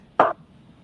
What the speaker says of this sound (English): Right now we're chopping some mushrooms fine, finer than they were sliced.